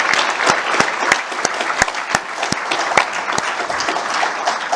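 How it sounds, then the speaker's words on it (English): Audience applause for teachers and administrators at a Male Minority Initiative event, a moderate crowd clapping steadily with sharp individual claps standing out, fairly close and lasting throughout. "So please give them a round of applause."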